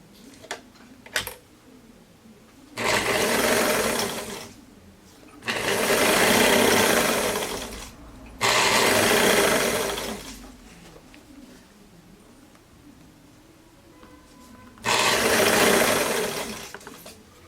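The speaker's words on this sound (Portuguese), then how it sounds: "Coloca aqui e costura bem na dobra." A sewing machine stitches along a fold of fabric while a jumpsuit is being made, running in four loud sustained bursts separated by pauses filled with faint ticking and handling of the cloth.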